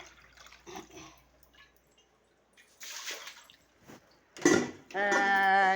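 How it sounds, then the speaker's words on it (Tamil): Leftover water is poured from a container into a plant pot in short splashy bursts with quiet gaps between them, ending in a louder gush alongside a steady tonal hum. "இப்போ வந்து சடிக்கு ஊற்றிடுவேன்"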